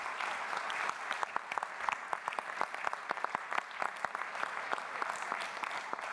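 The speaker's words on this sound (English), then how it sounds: "Let's give a round of applause for Barstar." Applause for the third-place winner at a business plan competition awards event, a steady crowd of clapping hands with distinct individual claps over a dense bed, continuous for several seconds without talk.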